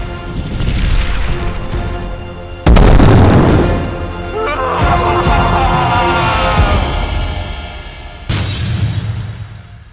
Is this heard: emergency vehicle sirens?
no